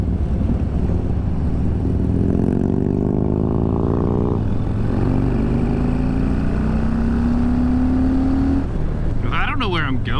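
A Honda Grom motorcycle engine revs and strains nearby, its pitch climbing steadily across several long pulls in a loud, continuous drone, with a brief higher whine near the end.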